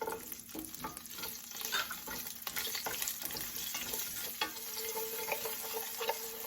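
Garlic cloves and slit green chilies roasting in a pan on low heat, a steady soft sizzle with occasional scraping stirs, close and fairly quiet, no voices.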